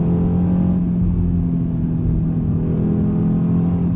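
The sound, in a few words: Audi RS3 Sportback five-cylinder engine accelerating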